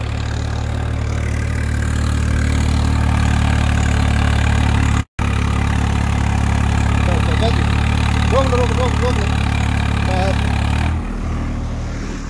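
A Swaraj 855 4x4 tractor engine runs steadily around 1400 to 1500 rpm, a loud, constant low diesel drone that is briefly cut and then rumbles on, with faint voices in the background.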